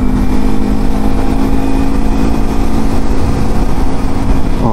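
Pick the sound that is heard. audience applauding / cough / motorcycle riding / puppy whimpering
motorcycle riding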